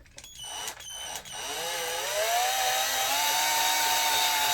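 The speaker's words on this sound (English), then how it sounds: "with my drill, I'm literally going to put it in between the two marks" A power drill spins up and bores into a handmade wooden clock face, starting with a few short stuttering bursts before settling into a loud, steady whine with rising pitch that holds to the end.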